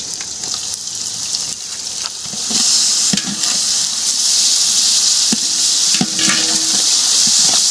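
Ginger-garlic paste sizzles and fries steadily in a pan for Arabian mandi biryani, with occasional stirring scrapes and a continuous hiss that grows louder partway through, with no talking.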